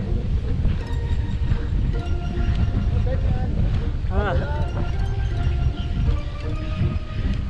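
Strong headwind buffeting a microphone during a long uphill road bike ride in the Sierra Madre, a constant loud rumbling roar throughout with people talking over it.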